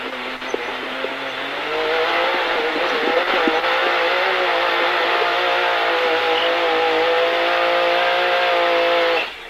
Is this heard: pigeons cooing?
no